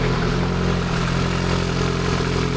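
A car engine idles steadily after its old antifreeze was drained and replaced with Engine Ice coolant, a continuous near rumble with a low, even hum and no talking.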